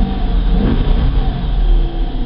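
A 2014 Dodge Challenger R/T Redline Edition V8 engine runs loud and steady close by, a continuous low rumble with a slight swell partway through, no talking over it.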